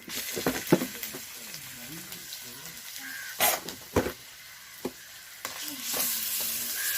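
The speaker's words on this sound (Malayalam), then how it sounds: "ആദ്യം ഇഞ്ചിയും വെളുത്തുള്ളി ഇതിലേക്ക് ഇട്ട് കൊടുക്കാം." Crushed ginger and garlic sauté in a pan for a beef dish with coconut milk, giving a close sizzle with scraping stirs and sharp clacks, while someone talks over it.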